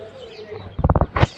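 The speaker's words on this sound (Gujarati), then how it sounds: "આ જો પાછા કબૂતર જાય" Pigeons take off with a quick run of rhythmic wing flaps, followed by a short low coo, heard fairly close against faint background noise.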